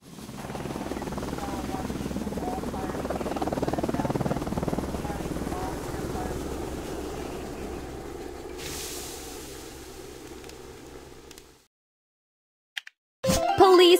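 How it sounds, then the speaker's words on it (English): Steady loud firefighting helicopter rotor drone in a video game that fades off, followed by silence and a couple of brief electronic blips. "Firefighting helicopter."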